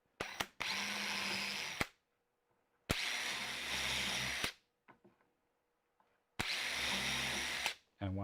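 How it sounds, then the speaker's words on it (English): A power drill bores holes into wood in three separate loud bursts, each whirring for over a second with short quiet gaps and light handling clicks between them. "And then I'm going to drill a hole here."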